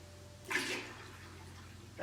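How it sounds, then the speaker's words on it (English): A bucket fills with water from a heating system in a quiet room: a soft gush of running water rises for about half a second, then fades to a low, steady background hum. "I'm now going to fill this bucket up and keep filling it up"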